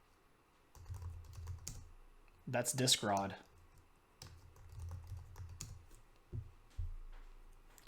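Someone types on a computer keyboard, bursts of close, crisp key clicks separated by pauses, while a person briefly speaks over the tapping.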